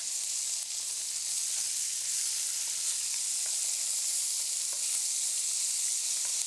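Food sizzles steadily in a hot pan, a constant bright crackling hiss with occasional small pops, no voices.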